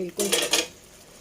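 A spoon clinks and scrapes against a cooking pot while checking cooked chana dal, a few quick metallic taps and scrapes in a short close burst that fades to quiet.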